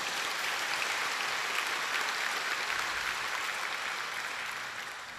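A church congregation applauds parents during a Sunday worship service, steady dense clapping filling the room for about five seconds, then tapering slightly at the end.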